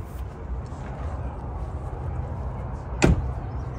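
An INEOS Grenadier 4x4 door shuts with a single solid thud near the end, after a stretch of quiet room noise.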